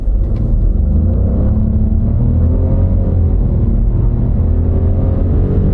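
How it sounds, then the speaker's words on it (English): Nissan car with a 3-cylinder variable-compression turbocharged engine pulling away from a stop, a loud close rumbling engine note rising steadily in pitch as it accelerates, with no talk. "it is a 3-cylinder engine, but it does have variable compression and a turbocharger"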